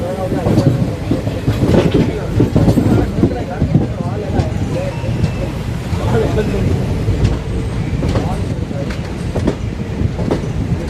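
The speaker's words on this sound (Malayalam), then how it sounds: "നമ്മളങ്ങനെ തലശ്ശേരി സ്റ്റേഷനിലേക്ക് കയറിക്കൊണ്ടിരിക്കുക" Kozhikode-Mangalore Intercity Express rolls into Thalassery station, with a steady loud rumble and rhythmic rail clatter heard from inside the train, voices faintly mixed in.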